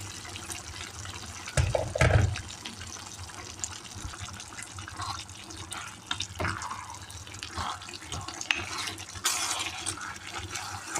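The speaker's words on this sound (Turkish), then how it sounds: "Birazcık da su koyalım." Water pours and splashes into a pot of kale and green beans cooked with suet, with a brief louder splash near the start and softer trickling and stirring afterward.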